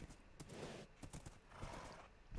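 Horses in Minecraft make faint clip-clopping hoofbeats and soft whinnies, with a few scattered knocks in a quiet scene.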